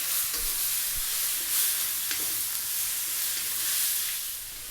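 Chopped chicken frying in a pan for sotanghon, with a steady close sizzle and hiss throughout and a few faint knocks from stirring, with no talk.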